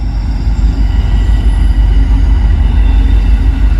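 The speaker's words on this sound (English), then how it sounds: "Another stack train." Heavy rumbling of a long westbound double-stack freight train rolling past nearby in Pittsburgh, Pennsylvania, a steady low roar with faint metallic wheel noise.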